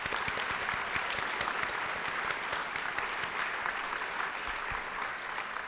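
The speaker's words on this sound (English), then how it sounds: "Give them a round of applause." An audience at an awards gala applauds continuously, a dense, loud wash of clapping from a full room that holds steady throughout.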